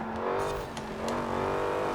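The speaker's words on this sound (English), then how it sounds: "Oh, it's a heavy car, so let's just downshift a little." Heavy car in the racing game Forza Horizon 4 being downshifted, engine note dropping then revving back up briefly, loud and close, no talking.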